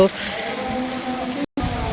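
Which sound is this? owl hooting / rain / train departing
rain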